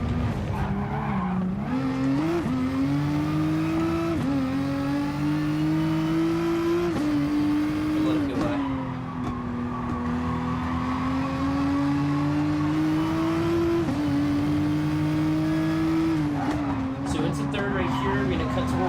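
A race car engine in Gran Turismo Sport at Monza drones steadily at high revs, its pitch climbing and then dropping at each gearshift several times over, with a person talking over it.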